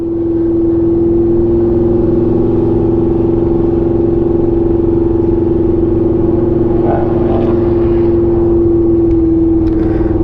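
A fender-flared Ford Mustang on a hot lap at Roebling Road Raceway, its engine holding a loud, steady drone from inside the car throughout, with faint rattles layered on top.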